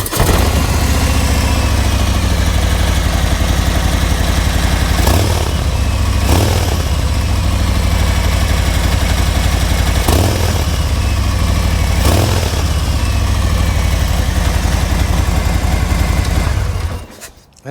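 A 2022 Harley-Davidson motorcycle idles with a steady, deep exhaust rumble, running close and loud throughout with a few brief blips before cutting off at the end.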